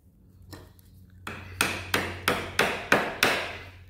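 Hammer blows on nails in pallet wood: a few soft taps, then six loud, evenly spaced metallic whacks ringing close up, with no talking.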